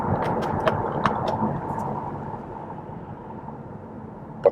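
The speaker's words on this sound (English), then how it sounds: "Small bit of road noise, even at these lower speeds." Steady road noise fills the cabin of an MG5 Long Range electric car at low speed, a continuous broadband rumble and hiss with a few faint clicks and no engine sound.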